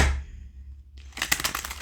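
A deck of oracle cards is shuffled by hand in a short riffling burst of papery flicks after a brief quiet moment, close and alone.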